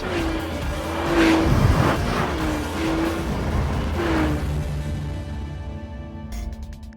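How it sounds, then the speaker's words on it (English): Honda NSX hybrid sports car accelerating, loud engine revving rising in pitch through several surges with a brief tire squeal, then fading away into the distance. "This gives the NSX ballistic pickup at any speed."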